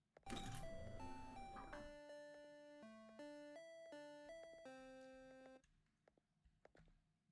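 A shop door bell in a video game rings with a long series of electronic chime tones in a stepping melody, then stops, leaving near silence with a couple of faint clicks.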